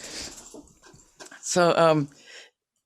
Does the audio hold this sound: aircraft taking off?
no